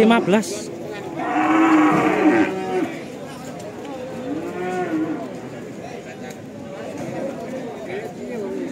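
Limousin cattle moo at a livestock market in repeated drawn-out lowing calls, close and loud, one after another, while people chatter in the background.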